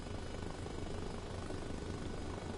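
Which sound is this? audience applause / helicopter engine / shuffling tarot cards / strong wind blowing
helicopter engine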